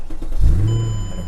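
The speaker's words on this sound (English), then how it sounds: "We'll go ahead and start the car." A 2007 Mercedes-Benz E63 AMG with a keyless-go start fires up close by: a short starter whir, then the engine catches with a deep loud rumble that settles into a steady idle, no talking.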